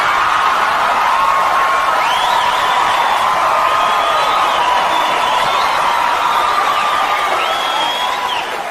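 A large stand-up comedy audience claps and laughs in a sustained roar of applause with whoops and cheers mixed in, loud and steady throughout, dipping only slightly at the very end.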